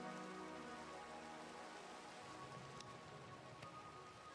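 Steady rain falls in a modded Minecraft world, a soft, continuous hiss of drops on surfaces, faint and unbroken throughout with no voices.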